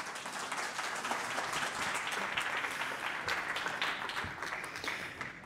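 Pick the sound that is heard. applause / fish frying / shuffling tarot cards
applause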